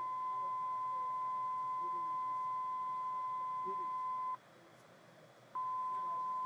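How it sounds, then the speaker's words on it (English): Garmin G1000 audio panel test tone: a steady electronic beep holds for about four seconds, stops, and resumes after a short pause, clean and unbroken against quiet background hiss. "You can press either start single tones or continuous tones."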